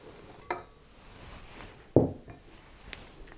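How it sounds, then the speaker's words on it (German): A spoon or whisk stirs flour and sugar together in a mixing bowl, giving a few sparse, quiet clinks and taps against the bowl with soft rustling between them. "Zuerst kommen die trockenen Zutaten in die Schüssel und werden miteinander verrührt."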